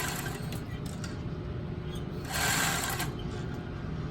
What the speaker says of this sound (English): I'm going to stitch my seam allowance down